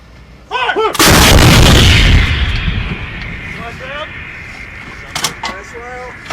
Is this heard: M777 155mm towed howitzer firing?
yes